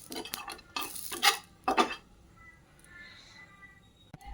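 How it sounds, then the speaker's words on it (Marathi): Grated coconut and sesame seeds being dry-roasted in a pan for a Marathi bhogichi bhaji paste, with several scraping stirs of a spoon against the pan and a faint sizzle between them. "खोबरं आणि तीळ भाजून घेऊ."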